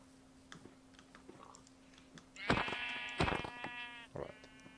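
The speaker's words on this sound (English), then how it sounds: "I'm going to get just one more sheep for the bed" Sheep bleating in the video game Minecraft: two or three nasal, wavering bleats close together in the second half, over a faint steady hum and light clicks.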